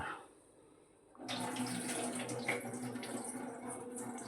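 Water gushes out steadily from a pot of rinsed mung beans after a brief quiet start, a close, continuous splashing pour that runs to the end.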